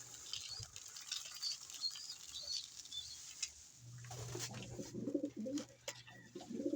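Pigeons cooing outdoors at a fancier's loft, soft repeated low coos that grow steadier in the second half, with chirpy higher bird calls and light rustling around them.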